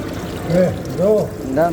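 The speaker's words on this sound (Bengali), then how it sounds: "এই যে বেসিং আমরা এখন আসছি হাত ধুতে তো হাতটা ধুয়ে নিতেছি" Tap water runs into a hotel washbasin while hands are rinsed. A steady splashing pour plays under nearby voices talking throughout.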